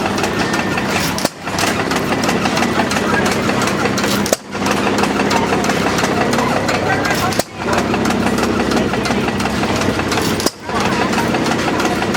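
A homemade miniature Rumely Oil Pull tractor engine runs steadily at idle, a continuous mechanical chugging broken by brief dips about every three seconds, with people talking nearby over it.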